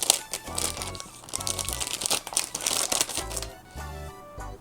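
A plastic bag holding the manual for a Quntis PHX008 laptop monitor lamp rustles and crinkles in bursts while being handled nearby, with irregular crackling and soft thumps.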